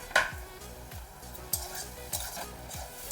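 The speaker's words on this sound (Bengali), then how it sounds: "পনিরটা তো ভেজে নিচ্ছি" Paneer frying in a pan for a Bengali posto potol curry, with a steady oil sizzle beneath repeated scraping stirs from a spatula, about one every half second, close and fairly loud.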